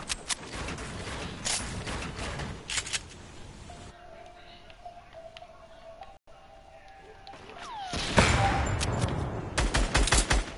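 Rapid bursts of video game gunfire as a player gets shot down, loud crackling volleys at the start and again near the end, with a quieter stretch of game ambience and a steady tone between them.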